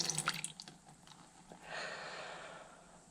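Water drips out of a Honda Accord heater hose with a few faint, close drips, then a quiet, steady trickle of liquid.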